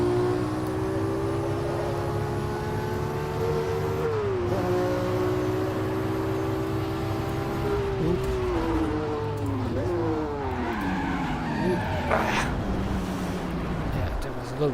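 Race car engine in Automobilista VR with the Ford vs Ferrari mod at Sebring, a loud continuous engine drone that holds, then dips and climbs with shifts and braking, with someone talking over it throughout.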